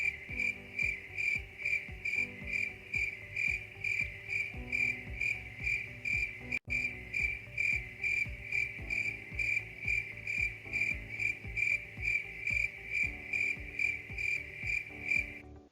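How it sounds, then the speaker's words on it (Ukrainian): A cricket chirps steadily in quick, evenly spaced pulses, a bright shrill trill repeating nonstop with no other sounds around it. "Ось такий, такий він, цвіркун."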